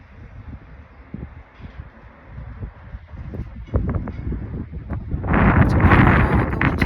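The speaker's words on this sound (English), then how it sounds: "it's very windy" Strong desert wind on the rim of the Ramon Crater in Israel's Negev buffets the microphone in rough low gusts that grow steadily louder, ending in a sustained roaring blast.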